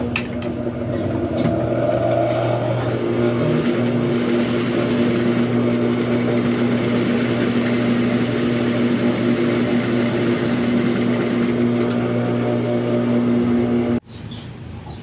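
A sewing machine's bobbin winder rewinding thread, a loud steady high motor whir running continuously before cutting off abruptly near the end.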